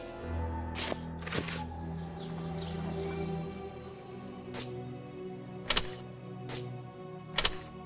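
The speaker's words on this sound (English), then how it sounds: "Let's see if these two keys work on it." Keys clatter and click in the lock of a locked door in a Sherlock Holmes video game, a run of metallic jingles followed by several sharp clacks, faint over a soft ambient game background.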